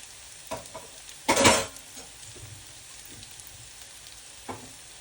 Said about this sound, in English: Fry that round for a few minutes